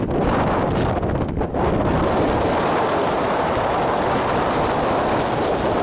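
Strong wind blasts against the microphone outdoors at Theodore Roosevelt National Park's South Unit, a loud, constant rumbling roar throughout.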